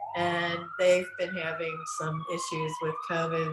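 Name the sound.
emergency vehicle sirens passing downtown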